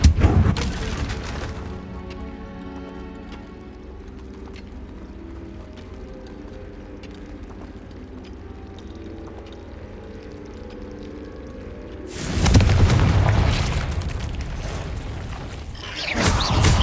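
Confringo fire spell blasts go off in the Hogwarts Legacy video game. One short, loud burst opens the clip and a longer roaring blast comes near the end, with a quiet tonal music bed playing between them.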